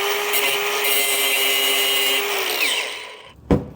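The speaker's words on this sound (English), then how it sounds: "We can't get it out, so we have to grind it." A grinder cuts through a spinning stud on a DeLorean, a loud steady high whine running for about three seconds before spinning down, ending with a short sharp knock.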